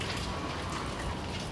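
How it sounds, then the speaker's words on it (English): Heavy rain falling steadily at an outdoor beach cleanup site, a dense continuous hiss of drops close by with no breaks and no voices. "雨下得很大"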